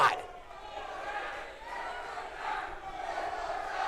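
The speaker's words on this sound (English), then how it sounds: "this bloodthirsty crowd here wants the Gladiator games to continue. As they're chanting one more time." At a live gaming event, a large crowd roars and chants together in a steady, loud, reverberant wash that swells and dips, heard from within the audience.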